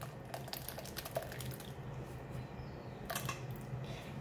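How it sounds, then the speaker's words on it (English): Tamarind water is poured through a strainer, giving a faint, continuous trickle with scattered small drips and splashes and a brief louder pour near the end. "Just pour it over the strainer."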